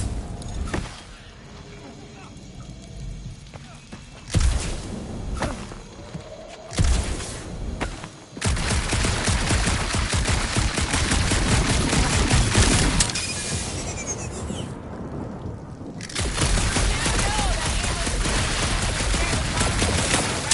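Shooting in a dark monster-planet game on PS4: heavy, sustained bursts of gunfire with crashing impacts, breaking off briefly and then resuming loud and continuous, with people talking over it.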